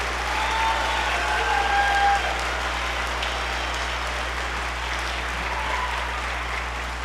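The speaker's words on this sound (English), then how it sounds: "Give them another round of applause for their outstanding work" Sustained audience applause after a school band's spring concert, a dense, steady wash of many clapping hands that fills the whole stretch at an even level, with no talk over it.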